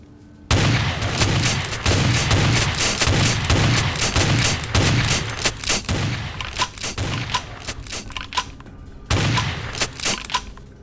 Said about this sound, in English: Were you guys just shooting each other in there? Because that's what it sounded like.